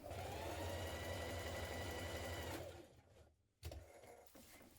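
A sewing machine runs steadily, stitching the centre back seam of a vintage-style coat collar, a loud continuous mechanical whir for over two seconds before it stops, leaving quieter handling noises and a brief clunk.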